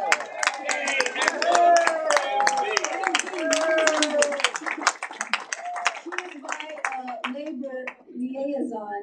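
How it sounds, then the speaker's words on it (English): An audience gives a round of applause for Mary Maxwell at a U.S. Labor Department event, with scattered sharp claps running under continuing speech from a voice at the microphone. "so you can help me give her a round of applause, Mary Maxwell."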